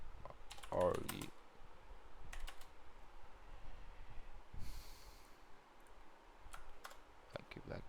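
Typewriter-style keystroke clicks used as a sound effect, a quick cluster of taps near the start and scattered single clicks later, fairly quiet over a low background with breathy noise.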